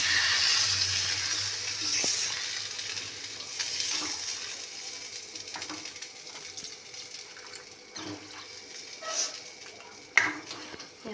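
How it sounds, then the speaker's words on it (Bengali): Water poured into a pan of fish curry being cooked in a home kitchen, a steady close splashing pour for about two seconds that fades into soft simmering and light utensil clatter. "জলটা দিয়ে দিলাম।"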